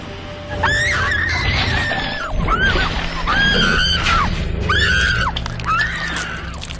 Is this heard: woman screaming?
yes